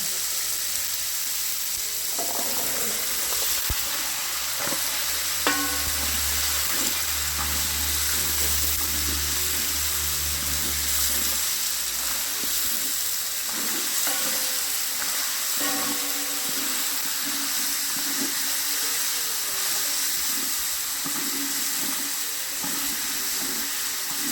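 Pumpkin pieces cooking in a hot pan at home for a Divali meal, giving a steady broad sizzle with a low humming rumble partway through and occasional clinks, with no talking.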